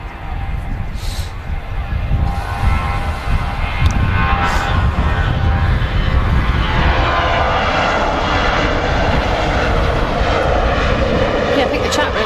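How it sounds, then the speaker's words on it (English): A Ryanair jet rolls down the runway at Manchester Airport, a steady, loud engine roar building and holding throughout, heard from a distance with no break. "We got Ryanair rolling on the runway."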